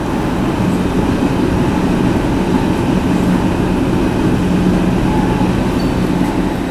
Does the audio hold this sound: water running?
no